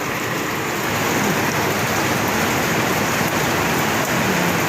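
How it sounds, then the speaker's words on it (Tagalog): Heavy rain pours down steadily in a dense, loud hiss on surfaces nearby, continuous and unbroken with no voices. "biglang umulan. Bumuhos ang ulan."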